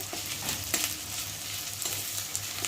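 Garlic frying alongside onion in a pan, a close, steady sizzle with occasional stirring clicks and scrapes, moderately loud with no talking.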